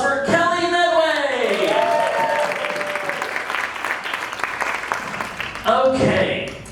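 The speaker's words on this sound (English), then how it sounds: "A round of applause" An audience applauding steadily, with a voice speaking over the clapping at the start and again near the end.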